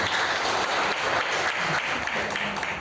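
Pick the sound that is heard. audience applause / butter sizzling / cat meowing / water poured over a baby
audience applause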